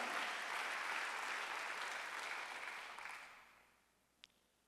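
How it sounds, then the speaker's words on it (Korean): Church congregation at a Sunday worship service applauding together in a sustained, even burst of clapping that fades out over the last second, followed by a single faint knock. "박수하세요."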